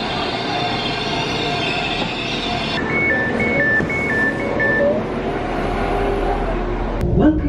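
A train rumbles through a railway station platform with a steady roar, a brief electronic chime sequence, and a metallic squeal near the end; no clear speech.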